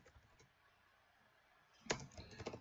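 Typing on a computer keyboard to enter an organization name into a fundraising button form, heard as a short close burst of quick key clicks after a quiet stretch.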